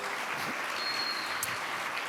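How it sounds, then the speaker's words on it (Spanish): A church congregation claps for the Lord during a service, with faint, dense applause heard from a distance, steady and unbroken across the short moment. "Dele palmas al Señor"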